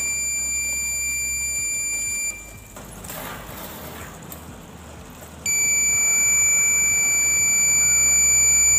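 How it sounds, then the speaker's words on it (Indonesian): A robot's distance-sensor buzzer emits a loud, steady high-pitched electronic tone that stops for about three seconds and then resumes, over a low hum. "maka buzzer akan berbunyi"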